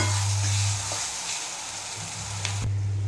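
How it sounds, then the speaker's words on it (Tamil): Chicken for biryani roasting in a hot pan, with a steady loud sizzle and frying crackle, an occasional stir or scrape, and a low hum underneath. "இது நல்லாவே ரோஸ்ட் ஆகட்டும்"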